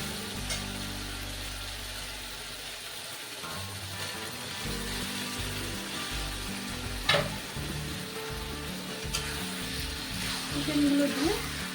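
Chicken pieces go into hot, oil-rich spiced masala for a chicken curry and fry with a steady, close sizzle and crackle, with occasional stirring scrapes over the continuous frying hiss.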